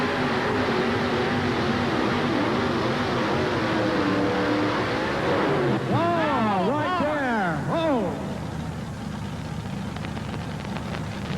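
A Ford two-wheel-drive pulling truck, the Irish Challenger, runs on the track at a 1988 Louisville, Kentucky pulling event. The engine roars steadily, then revs up and down in rapid surging sweeps midway before settling to a lower, rougher drone.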